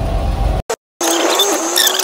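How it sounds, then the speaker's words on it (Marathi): A Maharashtra state transport (MSRTC) bus pulling out of the Swargate bus stand in Pune, its engine running loud and close for a moment, then cutting off briefly before steady engine and road noise return. "आपला स्वारगेट स्टँडवरून निघाली आपली गाडी"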